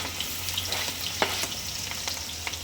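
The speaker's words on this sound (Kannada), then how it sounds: "ಎಣ್ಣೆ ಚೆನ್ನಾಗಿ ಕಾದಿದೆ ಫಸ್ಟು ನಾವು ಇದಕ್ಕೆ ಈರುಳ್ಳಿ ಹಾಕೊಳ್ಳೋಣ ಸಣ್ಣಗೆ ಹೆಚ್ಚಿರೋಂಥ ಈರುಳ್ಳಿ" Finely chopped onion frying in hot oil, a steady crackling sizzle with scattered pops and stirring scrapes, close and alone without talk.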